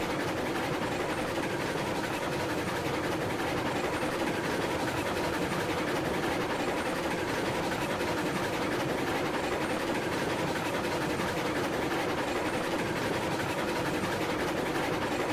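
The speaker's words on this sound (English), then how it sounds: "I love the sound of this, of these trains also." Trains running in the railway video game Railroads Online, a continuous dense rumble and clatter that stays loud and even throughout with no talking.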